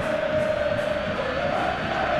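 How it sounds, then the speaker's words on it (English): Football stadium crowd at a Barcelona versus Espanyol Copa del Rey match, a steady, dense wash of applause and murmuring that holds at an even level throughout with no single voice standing out. "Crowd appreciates good football all round there."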